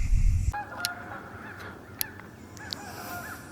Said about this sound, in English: Some Canadian geese just flew over